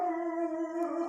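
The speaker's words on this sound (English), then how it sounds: "Yep, that's my dog." A dog howls in one long, sustained, steady tone with strong harmonics, close and clear, with no talk over it.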